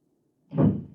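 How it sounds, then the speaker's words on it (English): A front door in a radio drama effect: silence, then a single short, low thud of the door shutting, fading quickly. "The front door."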